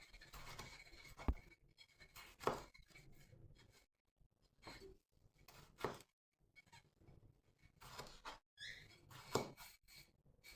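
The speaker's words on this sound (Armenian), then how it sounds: "հիմա այլ լոլիկներն եմ կտրատելու, գլխի մասը և ծայրի մասը հանում եմ, կտրատում եմ կլոր" Knife strokes cut through firm, long marinating-variety tomatoes on a board, a handful of separate round slices with short pauses in between, close up and fairly quiet.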